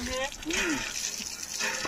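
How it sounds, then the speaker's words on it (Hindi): Running water at a waterfall in Odisha as someone washes their hands, a continuous splashing gush heard under a voice talking throughout. "पानी हाथ धो लीजिए सर।"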